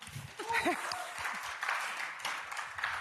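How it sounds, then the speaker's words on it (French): An audience in a church gathering applauds the technical team with a fairly faint, scattered burst of clapping. It carries through the whole moment, with some voices murmuring and a few brief tones underneath. "On peut les applaudir aussi."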